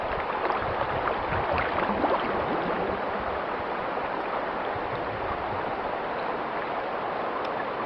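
Water rushing steadily from a small fountain in a Jamaican river, a continuous close, full splashing flow with no pauses.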